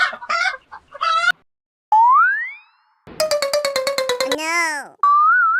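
Short chicken clucks open the sequence, followed by synthetic boing-like sliding tones and a rapid series of bright pulsed calls, all loud and close, with abrupt gaps between sounds.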